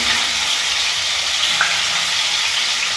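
Fish frying slowly in hot mustard oil in a wok, a loud, even, continuous sizzle close by with no voices.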